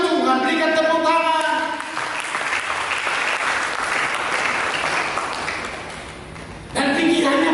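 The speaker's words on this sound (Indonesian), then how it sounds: "Berikan tepuk tangan." A church congregation breaks into loud, sustained applause that swells and then fades, with a voice speaking at the start and again as the clapping ends.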